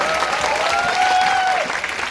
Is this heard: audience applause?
yes